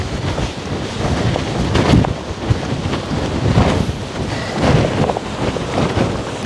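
Strong gusts of 40 mph storm wind batter a camp of tents during Storm Bert, surging and buffeting loudly against the microphone in uneven waves, with no voices.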